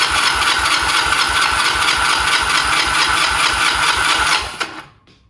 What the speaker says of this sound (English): Go ahead and hit the starter button for a few revolutions.